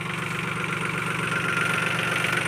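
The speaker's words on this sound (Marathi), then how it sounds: "मीडियम फर्स्टवर ट्रॅक्टर चालू आहे" A tractor engine runs steadily in medium first gear at 540 PTO rpm while rotavating a grassy field, a constant loud, close throb with a continuous rumble and no voices.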